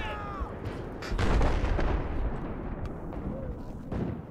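A heavy, booming rocket-launcher explosion in Battlefield 4, a deep roaring blast that swells and rumbles for a couple of seconds amid sporadic distant gunfire.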